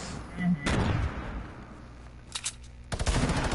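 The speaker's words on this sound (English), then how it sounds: "Of course, grenade." A grenade blast in the Fortnite video game, sharp loud bursts near the start and end with a rumbling tail, mixed with other gunfire-like booms during a match while a player talks.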